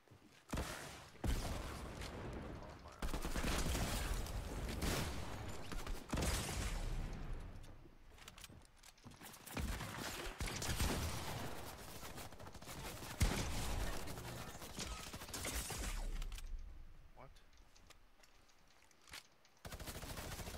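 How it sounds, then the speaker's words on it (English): Sustained rapid minigun fire in the video game Fortnite, loud and dense with brief pauses, heavy bursts running through most of the stretch and tapering near the end. "Minigun goes pretty hard too."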